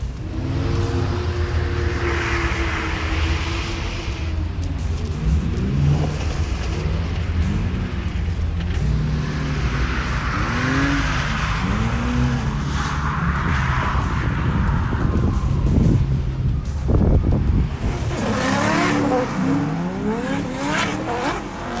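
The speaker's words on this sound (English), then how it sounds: "This guy in the red E46 was a particular favourite of mine to watch, as he was absolutely sending it every lap." Drift cars, including a red BMW E46, power around a track corner, their engines rising and falling in repeated revving sweeps over screeching tyres, heard from a moderate distance.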